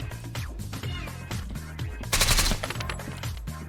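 Dense automatic gunfire from a Godot-engine shooter, rapid bursts hammering continuously with a louder, sharper volley near the middle, loud and close over the game's background sound.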